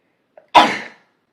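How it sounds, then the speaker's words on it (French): A single sharp sneeze bursts out after a brief intake of breath, close and loud, then silence. "j'ai envie d'éternuer."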